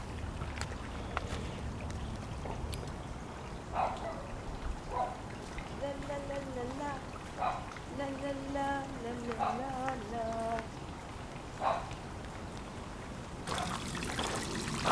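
A backyard garden pond fountain trickles and splashes in a continuous, soft wash of water while a voice talks over it.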